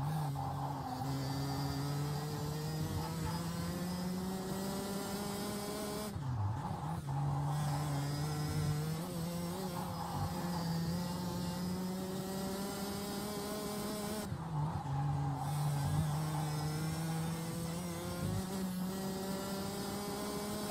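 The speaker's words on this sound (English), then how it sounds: "we will go on board with Alphonse Kiwi putting together his last lap" A racing go-kart engine screams continuously during an on-board final lap at the Genk circuit in OKL Europe, pitch rising and falling with gear and corner changes and dipping sharply twice under braking.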